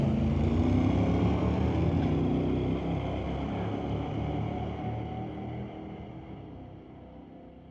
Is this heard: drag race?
yes